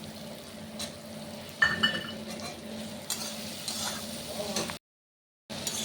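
Spice paste of ground chillies frying in a pan and being stirred, a soft steady sizzle broken by scraping and clinking of a spoon against the metal, with a brief dropout near the end.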